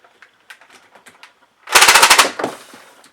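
A Nerf Magstrike blaster test-fires as a rapid burst of about seven loud, close shots in quick succession, with softer mechanical clicks and handling before and after.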